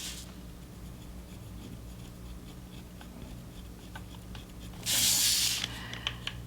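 Prismacolor colored pencils burnish paper in soft, close scratchy strokes, repeated rubbing with brief taps, then a louder burst of brisk scraping for about a second before quieter strokes resume.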